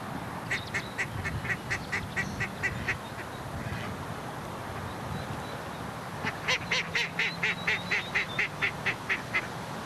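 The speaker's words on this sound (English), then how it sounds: "It's got a lot of duck life. They're all over the place today." Ducks on a lake quack in rapid, rhythmic runs: one burst of calls, a short lull, then a longer, louder series, all over a soft outdoor background.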